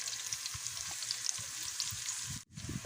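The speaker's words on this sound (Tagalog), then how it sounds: "Ilagay natin dito yung ating sibuyas hilaya at saka bawang sa ating pinagpretuhan." Onion and garlic sizzle in leftover frying oil for banana heart ginataan, a steady hiss broken by a brief dip near the end as ingredients are stirred in the pan.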